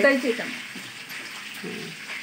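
Green chillies, split in two, frying in a pan with cumin, onions and peanuts for kande pohe; a soft, close sizzle with stirring, starting a little louder and then settling into a steady hiss.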